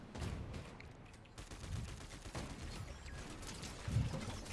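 Assault rifle fire in a video game comes in fast, repeated bursts of rapid shots, fairly faint and mixed with other game sounds.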